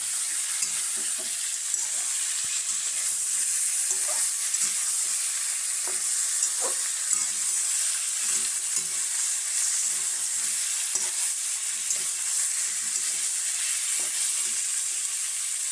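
Chicken masala stir-fries in a pan, a continuous sizzling hiss broken by frequent soft scrapes and taps of a spatula stirring throughout, close and fairly loud.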